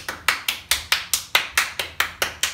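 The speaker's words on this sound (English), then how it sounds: "Everybody clap your hands." A steady series of about eleven sharp hand claps, evenly spaced and close, with no talking.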